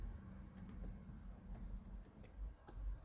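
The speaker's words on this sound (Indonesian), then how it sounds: "kita gandakan dengan menekan tombol Ctrl atau tombol Ctrl ditambah tombol D" Faint key presses on a computer keyboard, the Ctrl and D keys tapped together, a few sparse soft clicks against a quiet room hum, no voices.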